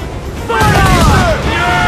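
Ship cannons firing in Assassin's Creed 4 Black Flag, a loud booming blast that rolls into a rumbling barrage with ringing tonal echoes, alone without talk.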